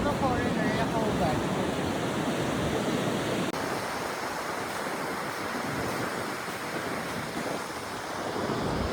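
Ocean surf rolls in continuously at Duli Beach in El Nido, Palawan, a broad steady wash of breaking waves with some wind buffeting the microphone.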